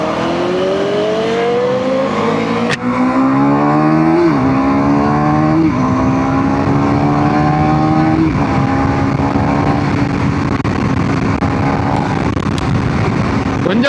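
A superbike's engine revs hard while being ridden on the road, climbing through repeated rising sweeps with gear changes, loud and close over continuous wind rush.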